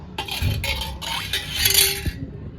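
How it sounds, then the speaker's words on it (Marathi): A utensil stirs liquid in a pot, giving scraping and clinking strokes in several short bursts with a faint metallic ring, close and moderately loud. "आणि ह्याला असं ढवळून घ्यायचंय."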